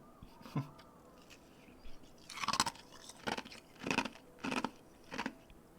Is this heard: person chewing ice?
yes